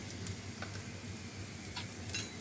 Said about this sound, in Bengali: গাওয়া ঘি দিয়ে পরোটাগুলো ভেজে নিব